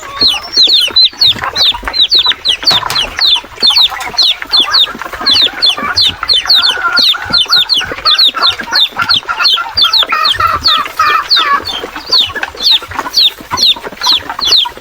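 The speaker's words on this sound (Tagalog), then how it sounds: "Yung mga sisiw" Chicks and chickens on a farm cluck and peep in a dense, constant chorus of short, high calls that overlap close by, with no talk over them.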